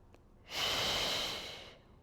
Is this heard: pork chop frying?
no